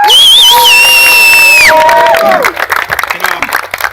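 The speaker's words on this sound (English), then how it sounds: "let's give Carlos Castellano a round of applause for everything he does for you" A youth crowd at a flag football league event in Washington Heights bursts into loud, close cheering, high-pitched whoops and shrieks from children, then settles into clapping and scattered shouts.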